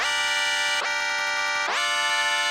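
Bright chords of two layered woodwind sounds with no effects sustain loudly, sliding into a new pitch twice with a quick swoop, steady and unprocessed, no voices.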